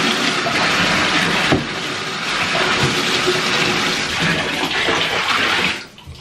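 Water splashes and runs steadily as plastic trash cans are rinsed in a bathtub, a loud continuous gush with a brief knock near the start, then tapering off abruptly at the end.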